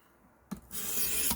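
Knife edge drawn across a higher-grit stone on a WorkSharp Professional Precision Adjust sharpener: a brief knock, then a steady close rasping stroke lasting under a second, with no talk.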